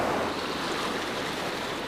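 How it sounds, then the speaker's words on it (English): Large, fast river rushing through a deep cave hundreds of meters underground, a steady broadband roar of churning water filling the space without a break. "a large and fast river now flows through the cave"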